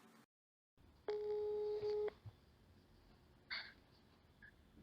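A telephone ringback tone sounds once, a steady electronic purr lasting about a second over a faint line hiss, followed by a short muffled noise.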